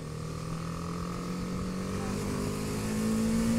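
A BMW G310 R motorcycle rides through New York City traffic, its engine droning steadily with a rising pitch as it accelerates, close and continuous under constant road and wind noise.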